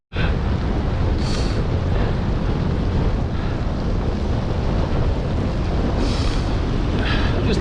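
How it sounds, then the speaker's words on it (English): Strong wind roars continuously against the microphone during a mountain descent in freezing conditions, a heavy, close buffeting rush with brief gusty swells and no voices. "here's this wind now on the descent"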